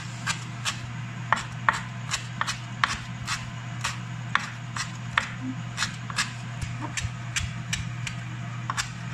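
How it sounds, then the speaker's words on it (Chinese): Knife chopping preserved radish (菜脯) finely on a board, a steady series of sharp, evenly spaced thwacks, close and distinct over a low constant hum, with no talk. "切的碎碎"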